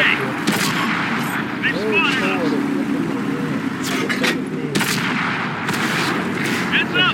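Artillery shells crash repeatedly in World of Tanks battle, several sharp booming impacts scattered over a few seconds amid engine rumble and game radio chatter, with a player talking over it.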